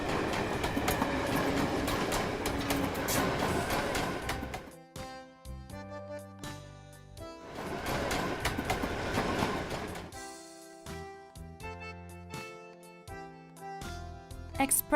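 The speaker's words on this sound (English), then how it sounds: "London Metro." A London Metro train rumbles along the rails in two loud, steady stretches, each broken by a lighter tune playing alone.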